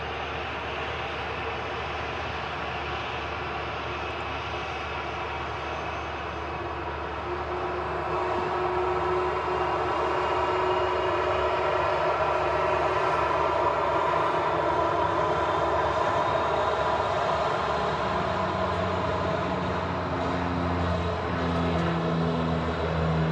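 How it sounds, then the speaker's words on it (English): A Zimex ATR 72 turboprop airliner departs, its engine drone steady and fairly loud, swelling slightly partway through with a low rumbling tone emerging near the end. "Looks like an Austrian charter airline, Zimex, departing there. ATR 72."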